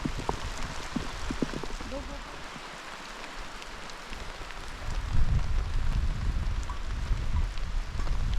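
Rain falls on a mountain trail toward a summit in Antique, a steady hiss of drops that thickens and grows louder partway through, with a faint voice early on.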